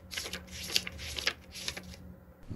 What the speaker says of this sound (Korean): 책 읽는 걸좀 좋아한다라고 한다면 책장 넘기는 소리 같은 것도 괜찮겠네요.